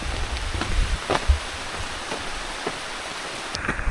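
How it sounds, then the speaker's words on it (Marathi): Heavy rain pours steadily over a forest trail leading to Waghbil waterfall, a dense constant hiss with a few nearby thumps and knocks mixed in, no voices. "पाऊस पण आता जोरात चालू झाला आहे"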